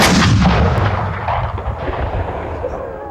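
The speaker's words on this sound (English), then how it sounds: "Their cannon opened fire on the Star of the West" Loud, sustained booming of shore cannon firing on the ship Star of the West near Fort Sumter, South Carolina, a dense roll of heavy artillery blasts rumbling close and continuous throughout.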